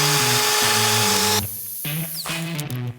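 A power tool cuts out a metal fuel pump plate on an abandoned scrapyard Squarebody truck, a steady high whine that drops briefly midway and then picks back up, close and loud.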